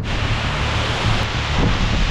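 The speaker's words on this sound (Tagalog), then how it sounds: "Grabe na may ulan." Steady, dense rush of rain mixed with gusting wind at a beach, heard outside a tricycle camper, loud and continuous throughout with a low rumbling undertone.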